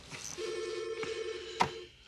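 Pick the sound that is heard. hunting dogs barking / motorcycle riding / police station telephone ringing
police station telephone ringing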